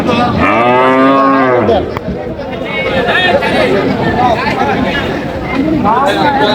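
Cows and calves at a cattle market in Dinajpur, one loud close drawn-out moo followed by fainter lowing amid a busy crowd of talking voices.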